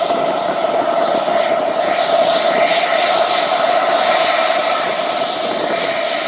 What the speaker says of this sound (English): A big turbine here, man.